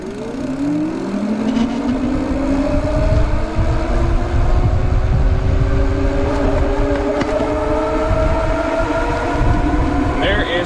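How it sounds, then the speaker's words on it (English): Radio Flyer Via electric wagon's hub motor at full throttle, recorded close to the motor: a steady rising electric whine with climbing tones over rolling rumble, continuous for the whole stretch. "We are going to do one more run of the throttle, and I'm going to position the camera down by the motor just so you can hear the volume"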